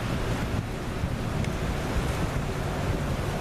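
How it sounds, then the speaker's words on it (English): Steady, loud wind buffeting and roaring across the microphone, with no voices and a constant rushing texture throughout. "Now it's a very windy day"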